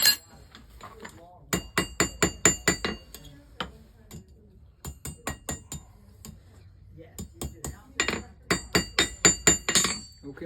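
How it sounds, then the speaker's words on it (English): A hammer strikes a hot nail point clamped in a vise at a historic settlement village, ringing metallic blows in quick bursts of rapid rhythmic hits with short pauses, close and loud. "I'm going to lock it into this vise."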